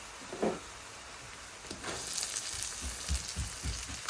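Ginger, garlic and onion fry in a pan for chicken biryani: a soft, quiet sizzle with a few low clunks and scrapes of stirring building toward the end, no voices.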